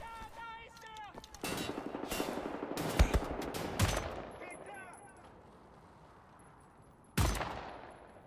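Gunfire in Wolfenstein: The New Order, several loud bursts of shots clustered in the first few seconds and another sharp blast near the end, over a faint background with a little speech mixed in.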